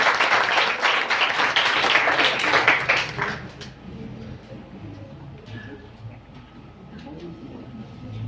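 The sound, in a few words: audience applause for speaker Kausar Shafi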